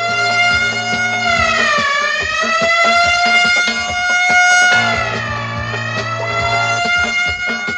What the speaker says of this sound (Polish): Przybywa straż pożarna.